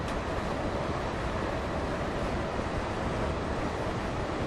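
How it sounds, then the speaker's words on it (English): Air rushes loudly and steadily through an open window of a moving Class 321 electric train heading into London King's Cross, a dense constant roar with no voices. "Just going to hear the rush of the air as passing through the train."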